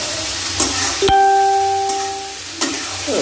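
Spice paste for fish frying in oil in a pan, with a steady hiss and sizzle broken by a few sharp stirring scrapes and a clanging utensil.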